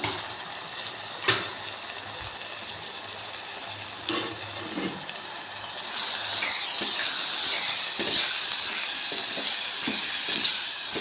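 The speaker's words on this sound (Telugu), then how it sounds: "మూత తీసి చూద్దాం" A small clank as the lid comes off a pot of cooked greens, then a louder rush of hissing steam that swells and holds steady, close by.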